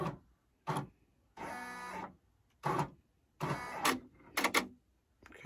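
A computerized embroidery machine traces the outline of a design for a baby gift set, giving several separate bursts of whirring motor and stepping noise with short pauses between them, close and fairly loud.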